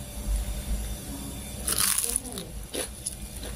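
Bite into crispy cireng, a fried tapioca snack, giving a loud brittle crunch followed by a second crunch as chewing continues, close to the microphone.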